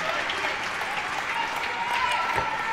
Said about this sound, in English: Even Mijatovic clapped that one.